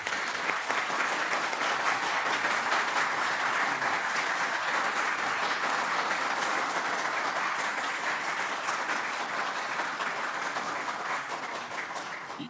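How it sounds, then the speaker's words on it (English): Steady, full applause from an audience at a congressional hearing on UFOs, dense and even throughout, tapering slightly toward the end. "Y'all quit clapping."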